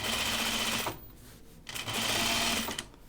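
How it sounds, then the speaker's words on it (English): A home sewing machine stitches the V neckline of a caftan in two fast, steady bursts of whirring with a brief pause between them. "I'm going to run out of bobbin thread"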